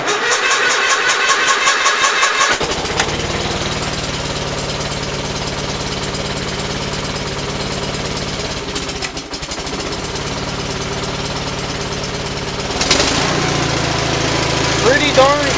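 A Gravely 818 garden tractor engine, cold in snow at about 3 degrees, cranks for a couple of seconds, catches and settles into a loud, steady run, with a brief revving surge near the end and some talk.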